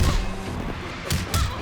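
Fighting-game hit impacts from Mortal Kombat X during a tournament match, an overhead attack landing: a sharp thud at the start, then two quick, loud smacking hits close together near the end.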